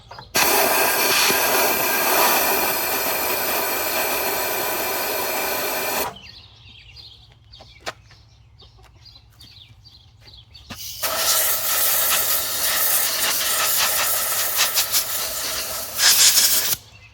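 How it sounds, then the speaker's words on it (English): Air blowing down into the cylinder of an old Kohler engine that sat unused for many years, loud steady hissing blasts, a long burst, a quiet gap with faint clicks, then another long burst. "I'm gonna do some blowing down in the cylinder."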